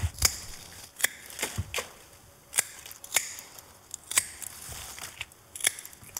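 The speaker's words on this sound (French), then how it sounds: "On taille bien sûr en biseau au-dessus de la feuille." Shears snip through hibiscus stems during pruning, a series of crisp, close clicks spaced roughly half a second to a second apart, alone with no voices.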